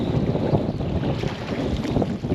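Steady wind roars and buffets across a small fishing boat on Southampton Water, a dense, close rushing noise with no talk.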